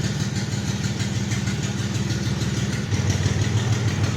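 A 1977 Datsun 280Z with a rebuilt L30 engine idles while warming up, a steady low rumbling drone that stays close and constant and thickens slightly near the end, with no voices.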